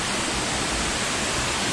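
Balagbag Falls pours in a dense, steady roar of falling water, loud and close with no voices.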